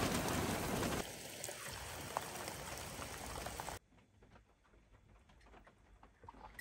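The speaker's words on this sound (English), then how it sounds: "We woke up to a really rainy day. It has been raining the whole night," Dense rain patters steadily on a van, a loud hiss of drops that suddenly drops to a softer, quieter drizzle partway through.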